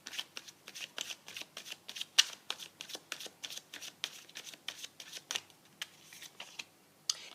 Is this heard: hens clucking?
no